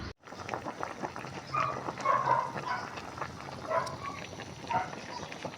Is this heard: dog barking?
yes